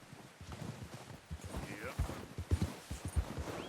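Horse hooves in Red Dead Redemption 2, irregular clip-clop thuds of a walking horse in a Western game, heard alongside people talking and calling to the animal.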